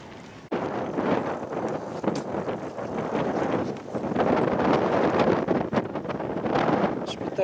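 Strong wind buffets the microphone on a beach in Rotterdam, a steady roaring rush with gusty swells that lasts throughout.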